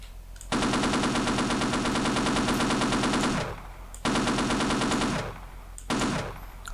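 Machine gun fire in an online shooter on a TNT storage area map, heard as two long sustained automatic bursts and a short third one, loud and close with brief pauses between them.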